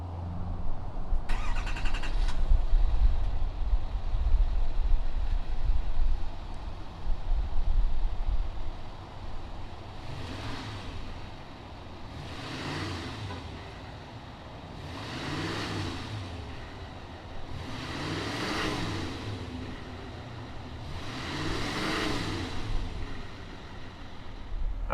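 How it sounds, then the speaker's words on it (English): A 2019 GMC Sierra 2500 HD turbo diesel truck cranks briefly, then settles into a deep idle, followed by several slow, swelling revs that rise and fall one after another. "fire up this monster truck and see what it sounds like"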